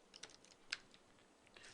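A handful of light, quiet taps on a computer keyboard while C++ code is typed, close but faint, with one sharper keystroke in the middle.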